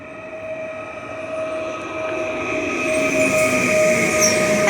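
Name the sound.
train at Poznań Starołęka station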